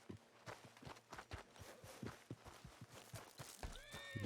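A horse in Red Dead Redemption 2 walks with a steady series of hoof clip-clops, then gives a short whinny near the end, fairly quiet and close.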